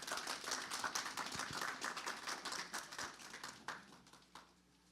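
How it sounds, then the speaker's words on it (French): A church congregation applauds a pastor with dense, continuous clapping that gradually thins and fades toward the end. "sous vos acclamations, accueillons le pasteur Jean-Robert Jean-Pierre."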